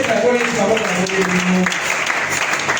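Church congregation applauding and cheering in a continuous burst, with voices mixed into the clapping throughout.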